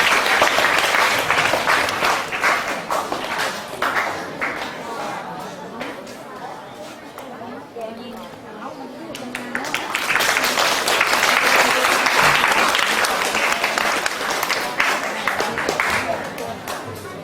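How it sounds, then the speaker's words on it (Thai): Students in a Thai school assembly applaud a classmate, broad clapping swelling then easing midway and rising strongly again, with chatter and voices mixed throughout. "ปรบมือให้เพื่อนนะครับ"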